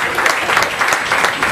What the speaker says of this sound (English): I request all of you to carry it with loud applause